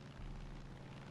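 A plane's engine drones in the Far Cry 5 video game, a dense, steady low rumble with a constant roar across the whole moment and no voices over it.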